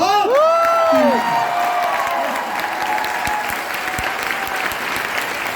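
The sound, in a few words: audience applause and cheering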